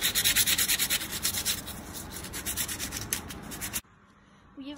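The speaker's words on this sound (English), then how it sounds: "Now let's just do one final sanding just to make it even." Hand sanding of a homemade karambit knife blade and ring coated in a hardened mixture of sand filings and glue, a steady rhythmic rubbing scrape up close that stops abruptly near the end.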